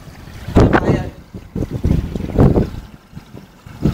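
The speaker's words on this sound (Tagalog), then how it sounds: "Lakas ng hangin" Strong storm wind buffets the microphone in loud, irregular gusts, with rumbling roars rising and falling over a few seconds and no talk.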